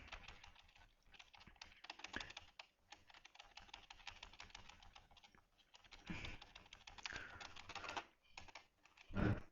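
Rapid computer keyboard key presses while playing a SAMP role-play driving game, steady irregular clicking throughout with a louder burst near the end.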